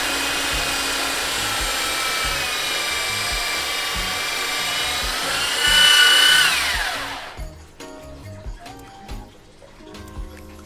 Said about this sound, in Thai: ใช้ในส่วนของตัว สว่านนะคะ เจาะรูไปก่อนเนาะ